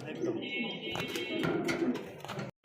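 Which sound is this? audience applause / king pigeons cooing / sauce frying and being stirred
king pigeons cooing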